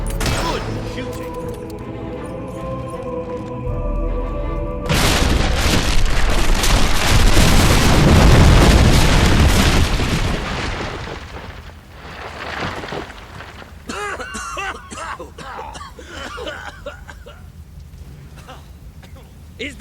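An explosion in the video game Fable 3: a loud, sustained roaring blast that swells and rumbles for several seconds, then fades into crackling debris, with voices speaking around it.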